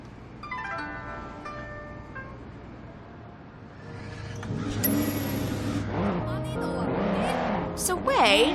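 A car engine drives steadily in the Sleeping Dogs video game, a smooth motor drone that swells slightly as it goes, with voices talking over it and tones rising in the second half.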